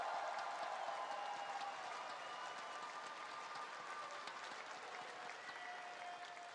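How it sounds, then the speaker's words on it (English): Dense, steady applause from a large crowd at an esports grand final watch party, sustained throughout without letting up. "Vancouver, please a round of applause one last time for your champions."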